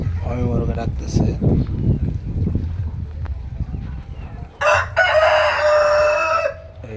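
On a chicken farm, a dense flock of hens clucks in a low, busy babble under a man's speech, then a loud, close rooster crow breaks out near the end.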